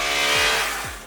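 A 2022 KTM RC 200 motorcycle engine accelerating in a brief, loud, close buzzing rev that lasts about a second and fades slightly at the end.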